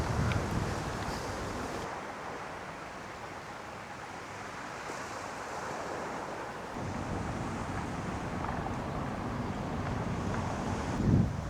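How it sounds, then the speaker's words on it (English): Strong wind buffets the microphone in a constant rumbling roar on the coast at L'Albir, Spain, with gusts swelling and easing throughout. "Remember when I said it wasn't that windy out here? Well, apparently it is"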